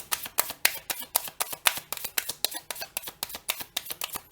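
Tarot cards are shuffled by hand in a quick, even run of crisp riffling snaps, close and moderately loud, repeating steadily throughout with no talk.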